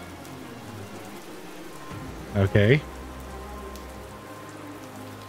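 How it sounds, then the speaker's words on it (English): Steady rain falling on a surface, a constant soft patter throughout, briefly interrupted by a short spoken word in the middle. "Is it raining?"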